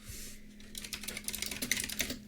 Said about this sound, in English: I can hear you typing